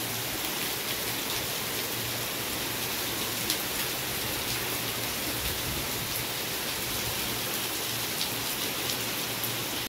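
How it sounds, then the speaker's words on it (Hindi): Heavy rain pours steadily outdoors, a dense, even hiss of countless drops striking surfaces, loud and unbroken throughout with faint scattered patters standing out. "केते जोर वर्षा होची"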